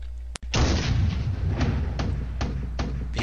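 Artillery in the Brüder Gegen Brüder video game campaign fires one sharp, loud boom, followed by a sustained rumbling barrage with repeated heavy thumps.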